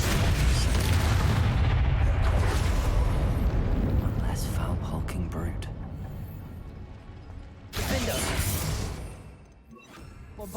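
Bombarda blasting spell explosions in Hogwarts Legacy: a loud, dense booming blast with crashing debris in the first half, a fading rumble, then a second heavy crash near the end.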